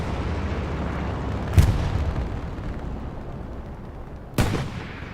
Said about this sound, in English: See an explosion happen off into the distance. A Stuka.